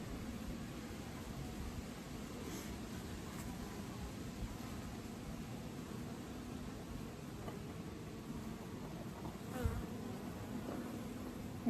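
Honey bees buzz steadily from an opened horizontal 24-frame Layens hive holding a swarm colony, a dense continuous hum close by with no talking.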